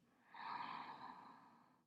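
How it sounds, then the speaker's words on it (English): One slow, deep breath drawn in and let out during a gentle morning yoga flow, soft and close, swelling and then fading away. "Breathe deep."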